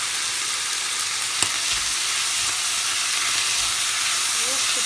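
Grated onion fries in a pan for a beef-heart dish in cream sauce, giving a steady, dense sizzle throughout with one brief sharp tick near the start.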